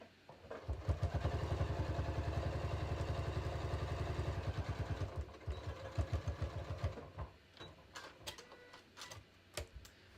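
A sewing machine runs a fast, smooth, continuous stitching burst on shorts fabric for several seconds, then stops, leaving light clicks and handling sounds close by.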